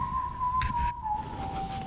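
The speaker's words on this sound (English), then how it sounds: "some of you may recognize that whistle from an old spaghetti western" A person whistles a theme, spaghetti western style, a single steady high tone held over a noisy outdoor background with brief hissy bursts.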